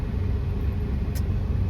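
Steady low rumble inside a car standing in Delhi traffic, a continuous engine and road drone with no talking, one brief faint hiss near the end.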